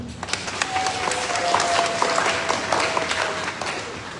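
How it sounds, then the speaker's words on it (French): A church congregation claps together in sustained, even applause at a homily, a dense wash of hands with no voices standing out. "Applaudissons pour nous-mêmes."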